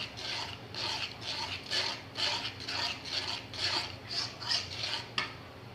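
Chicken roast masala with ground nuts being stirred in a pot: a rhythmic, scraping rasp of a spoon, about ten even strokes close up, with no voices.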